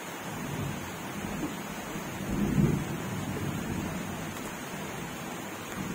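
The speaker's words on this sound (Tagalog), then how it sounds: "It's raining outside." Steady outdoor rain with a low rumble of thunder swelling briefly near the middle, a broad continuous wash heard from indoors with no talking.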